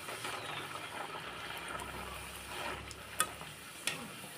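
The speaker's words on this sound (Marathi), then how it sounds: "आता आपण आहे ना पुऱ्या तळून घेऊया" Puris deep-fry in hot oil with a steady close sizzle and bubbling, joined by a couple of sharper clinks near the end.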